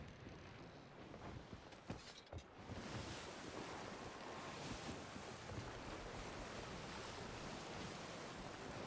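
Steady wind and rolling waves on the open sea in Sea of Thieves, a broad continuous wash with gusty microphone-like rumble, a few soft thumps early on, then a constant loud surge with no talking.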